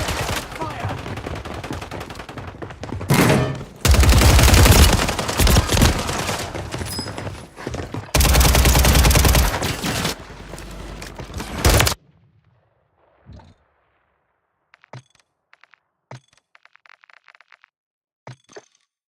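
Video game gunfire: loud, sustained bursts of rapid automatic fire for about twelve seconds, then a quiet stretch broken by a few sparse, sharp cracks.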